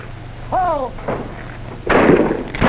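Shotgun blasts at trap shooting practice, a sharp report near 0.6 s and a heavier, louder blast near 1.9 s, with a brief whistle-like tone and the faint murmur of a voice between them.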